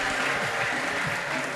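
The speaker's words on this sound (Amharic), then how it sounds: "ለጌታ ክብር ለልታ ጭብጨባ ይሁንለት" Congregation applauding during a Tuesday prayer and deliverance church service, a dense steady wash of many hands clapping close and loud with no pauses.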